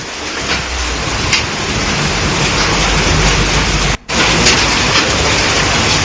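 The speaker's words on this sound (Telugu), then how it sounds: "ఒకవైపు వర్షం కురుస్తూనే ఇంకోవైపుగా భారీ గాలి దుమారం" A heavy rain and wind storm in Uttar Pradesh, with a dense, steady roar of wind-driven rain and gusts buffeting the microphone throughout, broken by one very brief dropout, with no voices.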